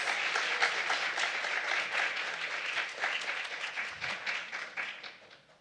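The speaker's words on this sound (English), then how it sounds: "Can we just have one more round of applause for both Linda and Carissa," An audience applauds steadily, many hands clapping together at a moderate distance for several seconds before the applause begins to thin out.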